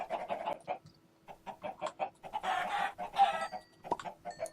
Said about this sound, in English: So let's start sacrificing chickens.